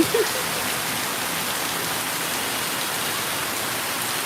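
Steady evening rain falls throughout, a dense even hiss of drops on surfaces with no voices and no pauses, close and constant from start to finish.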